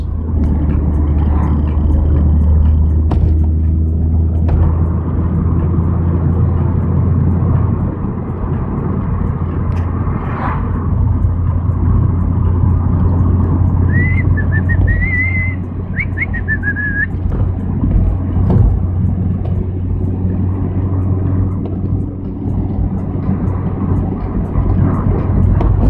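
Road traffic with trucks rumbles steadily, a loud continuous low roar of heavy engines and tyres passing close by, with brief high whistling and squealing tones rising over the drone partway through and no talk.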